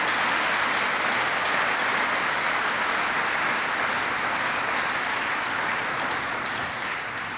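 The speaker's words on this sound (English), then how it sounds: "Please give him a big round of applause." Sustained, dense applause from a large audience honoring Secretary Tim Geithner, loud and even throughout and easing slightly toward the end.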